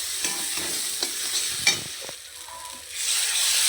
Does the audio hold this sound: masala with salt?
yes